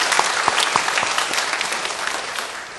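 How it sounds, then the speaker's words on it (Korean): A church congregation claps warmly during a Sunday service, a dense, steady round of applause that fills the room for a few seconds, then begins to taper off. "우리 정말 수고하셨는데 더운 날에 우리 격려의 박수 한번 하겠습니다."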